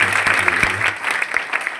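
Loud applause from an audience at a primary school Independence Day celebration in Ladpur, a dense steady clapping that fills the moment and begins to thin toward the end.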